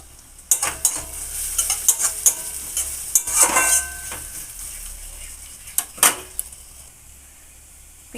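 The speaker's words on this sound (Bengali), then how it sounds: "পেঁয়াজ ভাজা ভাজা হয়ে গেছে" Onions fry in a wok, with a soft sizzle under repeated scraping and clattering strokes of a spatula stirring them, in bursts that come and go before fading near the end.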